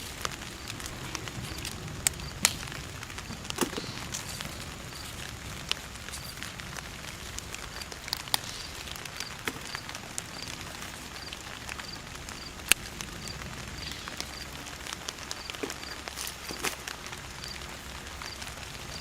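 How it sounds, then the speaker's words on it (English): Light rain falls on a garden as a soft, sparse crackle of scattered drops tapping leaves and ground, quiet and steady with occasional sharper hits. "The rain is coming."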